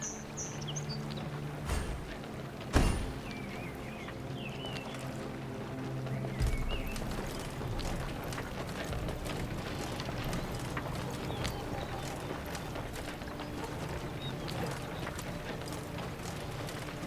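Horses riding in Thronebreaker: The Witcher Tales, a faint continuous patter of hooves under chirping birds and ambient outdoor sound, with a couple of sharp knocks early on and no speech.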